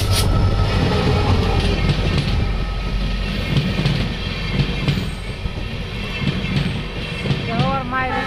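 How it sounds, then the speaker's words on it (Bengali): A Guwahati to Dibrugarh express train arrives with a loud, continuous rumble and clatter of wagons, ending in a brief wheel squeal, while voices chatter nearby. "দেখো তোমরা কি করে আসছে ট্রেন"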